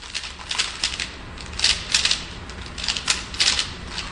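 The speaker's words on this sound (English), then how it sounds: "That's the sound of a Rubik's Cube." A Rubik's Cube turned rapidly by hand, making dense bursts of crisp plastic clicks and clatters in quick irregular flurries, close up, with no talking.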